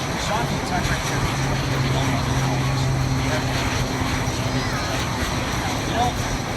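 A military display jet team takes off at the Miramar air show, a steady loud engine roar and rumble washing over the airfield with distant crowd noise mixed in.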